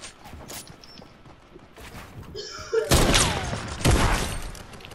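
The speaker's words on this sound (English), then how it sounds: "Who's fucking shooting rockets and shit?" Rockets fired and exploding during a video game firefight: two loud broadband blasts with rumbling tails land in the second half, after quieter scattered pops and faint chatter.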